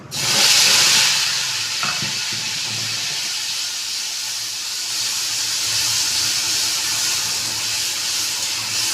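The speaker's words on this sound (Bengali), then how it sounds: "পেঁয়াজটা আমি একটু ভালো করে ভেজে নেব" Onion paste sizzles in hot oil in a pan with dry red chillies, bay leaves and whole cumin for a cauliflower roast, a steady loud hiss and crackle with a brief louder burst at the start, no talking.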